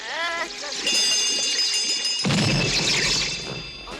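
A small bell rings out in a Smurfs cartoon as a magic spell is cast: bright, sustained chiming tones over musical sounds, broken by a sudden crash midway and a busy, ringing tail.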